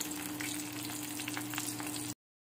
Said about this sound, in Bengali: ওই ইলিশ মাছের তেলের মধ্যেই আমি অল্প করে কালো জিরে আর কাঁচা লঙ্কা দিয়ে দিলাম